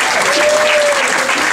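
Loud, dense applause from the audience at a comedy class show, a continuous wash of clapping with some crowd noise, and a faint sustained tone running beneath it.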